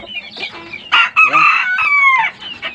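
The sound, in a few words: rooster crowing, chickens boxed for shipping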